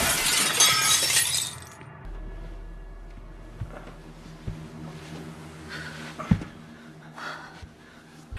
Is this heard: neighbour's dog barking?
no